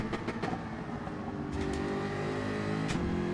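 Jaguar Group 4 race car engine in Gran Turismo 7 at Watkins Glen, a close, steady, loud droning roar with a brief change in pitch partway through, as if shifting gears.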